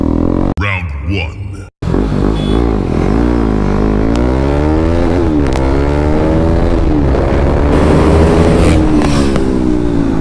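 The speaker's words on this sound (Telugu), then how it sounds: "సో చందు బ్రో ఏమన్నాడంటే నార్మల్గా ఇక్కడ ఖాళీ రోడ్ ఉంది కదా and we have all the safeties, race పెట్టుకుందాం అని అంటున్నాడు." A KTM RC390 and an Aprilia RS457 race along an open road, engines revving loudly and pulling up through the gears in rising and falling sweeps after a brief cut at the start.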